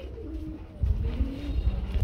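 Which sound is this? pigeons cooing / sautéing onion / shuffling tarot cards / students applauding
pigeons cooing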